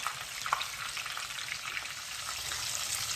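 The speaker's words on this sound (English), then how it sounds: "Now I'm at the last stage of my frying." Food crackles and sizzles steadily in hot oil, a dense, continuous hiss with tiny pops, close up and without talk.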